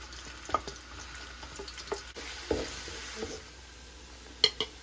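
Green bell pepper shallow frying in a pan, a soft sizzle with several close clanks and taps from stirring at an uneven pace, with no talking.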